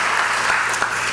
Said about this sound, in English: let's give a round of applause for Harlandale for hosting us